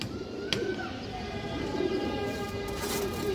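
A Pakistani breed pigeon coos softly in a loft, low throaty calls repeating over steady background hum with a faint chirp mixed in.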